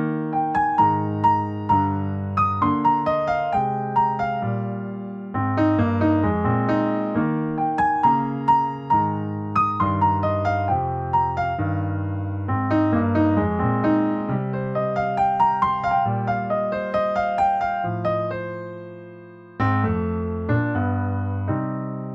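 Solo piano plays a TV theme, with a flowing melody over rolling chords in a relaxed, even rhythm, clear and close.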